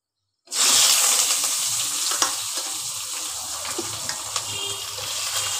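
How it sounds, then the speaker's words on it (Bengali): Chopped onions hit hot oil that already holds bay leaf, bursting into a loud, sudden sizzle that settles into a steady, close hiss with a few faint clicks. "এবার দেব এতে পেঁয়াজ কুচিয়ে রেখেছি, সেই পেঁয়াজগুলো দিয়ে দেবো"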